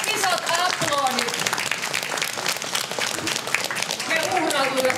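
Crowd applauding the women contestants at a Finnish ice cream eating championship, scattered clapping heard under a loud announcer talking over it throughout.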